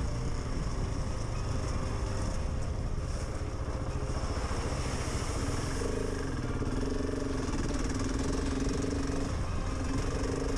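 A GasGas ES700 motorcycle on a loose-rock trail with puddles, its engine droning steadily and loud throughout with a rough, continuous mid-range note and slight shifts in tone.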